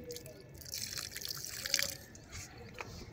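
Water poured onto potted garden plants, including tomato and tagar (crape jasmine) seedlings, trickling and dripping steadily into the soil, soft and close.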